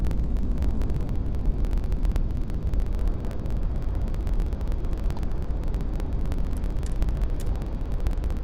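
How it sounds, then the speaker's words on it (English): Spaceship retro thrusters firing in Starfield, a loud continuous low rumbling roar with a turbulent, crackling texture that holds steady throughout. "Retros firing."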